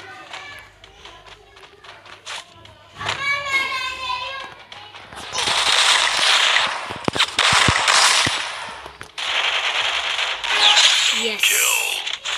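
Gunfire and game effects from a Free Fire Clash Squad match played with shotguns, sharp bursts and clicks arriving in clusters through the middle and later part, mixed with excited voices talking over the action.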